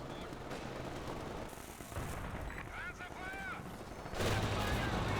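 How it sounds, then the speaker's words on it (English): A Cromwell tank fires a shot in a World War II strategy game battle: a loud, heavy boom bursts out near the end over continuous battle noise, scattered gunfire and someone talking. "Big shot in from Cromwell"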